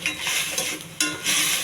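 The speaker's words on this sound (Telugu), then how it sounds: "అల్లం వెల్లుల్లి పేస్ట్ వీటితో పాటే కలవాలండి" Drumstick and potato pieces are stirred with ginger-garlic paste in a pan, giving close scraping and sizzling sounds in short uneven strokes, with a brief pause midway.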